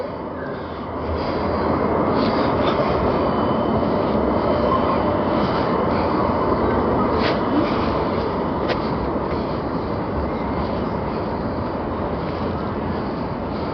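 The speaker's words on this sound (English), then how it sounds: "Oh, here comes the tram." A tram rolls along a Birmingham city street, a steady rumbling, hissing pass that swells in the first seconds and then holds loud and close for the rest of the clip, with no voices over it.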